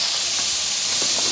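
Chicken frying in oil over a wood-fired stove gives a steady, close hiss that holds evenly through the whole short stretch, with no voices.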